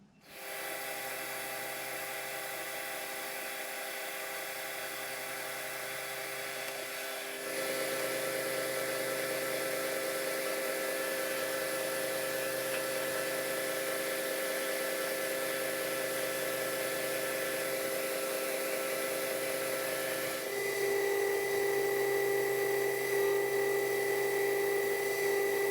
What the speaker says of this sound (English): So I'll face this off, clean this up, put a nice heavy chamfer on that